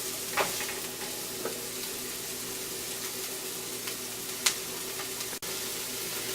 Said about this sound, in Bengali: আর এটাকে অনিয়নটাকে সে ভেজে নিচ্ছে বাটারের মধ্যে